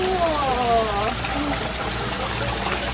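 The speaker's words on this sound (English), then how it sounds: "Look at all the waterfalls." Waterfalls at Rock City Gardens, a steady rushing and trickling of falling water filling the background, with a voice talking briefly over the start.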